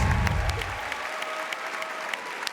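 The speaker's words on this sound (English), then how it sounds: "you're still clapping" A television talent show audience at America's Got Talent applauds, a dense burst of clapping that starts loud and thins slightly over a couple of seconds, with some cheering underneath.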